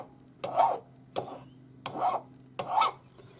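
A hand file rasps against the knuckle of a wide hinged metal ring in four short, separate strokes, close and fairly quiet.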